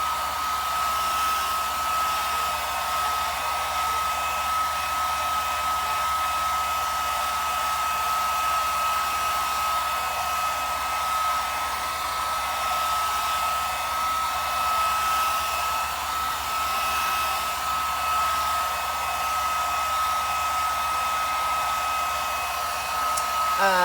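A blow dryer runs in a loud, steady, unbroken whine while heating acrylic pour paint in a flip cup painting, with no voices over it.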